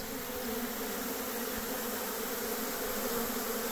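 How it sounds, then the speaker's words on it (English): A swarm of honey bees leaving a single hive makes a dense, steady buzzing hum that fills the air evenly throughout, loud and close, with no voices. "Now I thought I would walk over here and watch these honeybees departing."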